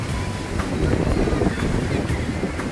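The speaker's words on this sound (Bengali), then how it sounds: "এবার চলে এসেছি সমুদ্রে।" Ocean surf rolls onto the beach at Kozhikode, a steady broad wash of waves mixed with wind buffeting the microphone, with faint voices in the background.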